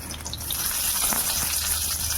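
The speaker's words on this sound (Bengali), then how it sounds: "কড়াইতে একটু তেল দিলাম, দুটো তেজপাতা, একটা শুকনো লঙ্কা" Bay leaves and a dried red chili tempering in a little hot oil in a wok for a Bengali fish curry, producing a soft, continuous hissing sizzle at moderate level, close by with no voices.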